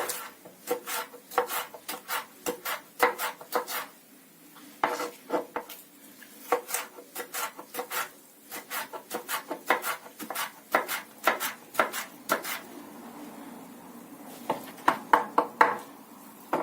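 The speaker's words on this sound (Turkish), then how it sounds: "ortadan ikiye bölüyoruz. Ardından bu şekilde şeritler halinde doğruyoruz." A knife slices red capia peppers into strips on a cutting board, giving a close, rhythmic series of sharp cuts and thuds in quick bursts with short pauses between them. No one speaks.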